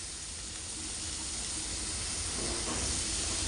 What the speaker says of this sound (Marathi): आणि आता आपण ही सगळी फ्लावर त्याच्यात टाकून घेणार आहोत आणि परतून घेणार आहोत